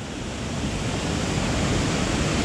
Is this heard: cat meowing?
no